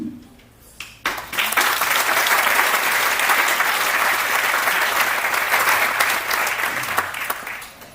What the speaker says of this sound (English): They deserve all of the applause